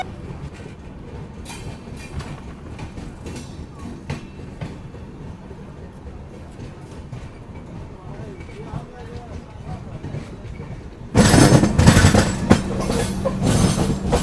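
Jammu Mail train rolling on the rails toward Pathankot Cantt station, a steady rumbling clatter heard from inside the carriage, suddenly growing much louder and brighter near the end as if a door or window opened.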